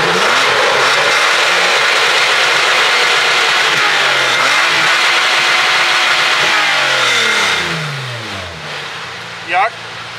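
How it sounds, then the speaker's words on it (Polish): An off-road SUV engine, either a Suzuki Vitara V6 or a Nissan Patrol V8, revs loudly and steadily up close, its pitch climbing and falling through several sweeps before dropping away near the end. "zwłaszcza jak się jedzie za tobą, to przyjemnie słychać dźwięk twojego silnika"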